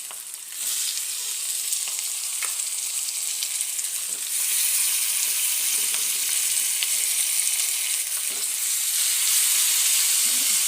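Tomatoes fry in a pan for a broad bean curry with a loud, continuous close sizzle and hiss that grows a little stronger partway through, with faint stirring ticks.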